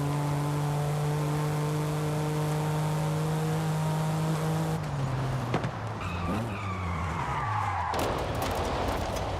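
A BMW M car in Forza Horizon 5 holds a steady engine drone, then breaks into a skid with squealing tires and shifting engine pitch, loud and continuous throughout.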